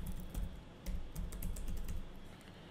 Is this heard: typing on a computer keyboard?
yes